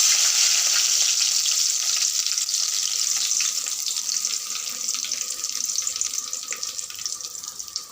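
Mustard seeds and curry leaves fry in hot oil for kothu dosa, a bright, dense crackling sizzle that is loud at first and slowly eases over several seconds, heard close up with no talking.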